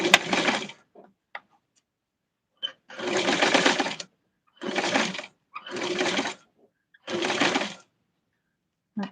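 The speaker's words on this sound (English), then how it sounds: "I'm going to get started with the sewing" Sewing machine stitching the sleeve of a Barbie doll's tweed suit, running in several separate bursts of a second or so each with short pauses between, close and fairly loud, with no voices.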